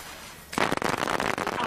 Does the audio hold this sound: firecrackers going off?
yes